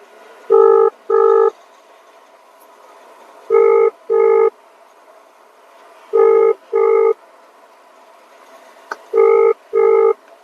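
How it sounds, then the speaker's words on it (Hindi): An outgoing phone call rings back in an even pattern of double tones, two pulses per cycle repeating four times at steady intervals. The call goes unanswered and the tones are clear against a quiet background. "तो पहले फोन कर लेते हैं भाई को"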